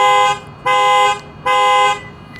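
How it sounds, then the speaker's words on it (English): Panic alarm on a 2017–2018 Lexus LX570 SUV: the horn blares in loud, steady pulses, three long honks separated by short gaps, close and alone with no talk. "I can press and hold the panic alarm button there, and that's the one on the bottom, and that will set off the panic alarm."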